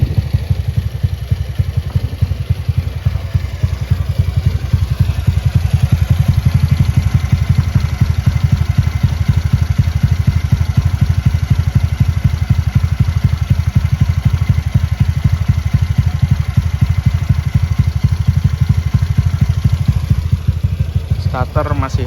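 A Yamaha Beat 120cc bore-up scooter engine with compression 12, original injector and a cam without ADS runs steadily at close range, a loud continuous low throbbing idle with clattery texture throughout.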